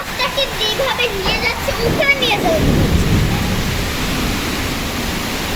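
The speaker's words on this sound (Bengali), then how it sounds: "কি পরিমাণে বৃষ্টি হচ্ছে বাতাস হচ্ছে কালবৈশাখী ঝড়ের মতো কেমন বাতাস আর কেমন বৃষ্টি হয়ে যাচ্ছে" Heavy Kalbaishakhi storm with downpour and strong gusting wind, a dense steady roar of rain and wind throughout, loud and close, with excited voices talking over it in the first half.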